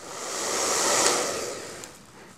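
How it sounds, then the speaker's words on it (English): A blow dryer is drying hair while a brush works through it, giving a steady, close, breathy hiss that swells and then eases off slightly as the airflow shifts. "jump into our blow dry for a lot of real soft volume to it"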